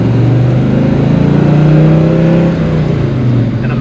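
1967 Buick GS400 with a manual gearbox, its V8 revving under load while driving, a loud close rumbling engine note rising and easing in pitch over a few seconds.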